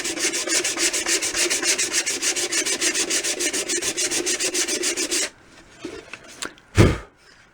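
Steady, rapid back-and-forth sanding rasps across the wooden bearing edge of a Gretsch drum shell for about five seconds, then a few scattered scrapes and a louder knock follow.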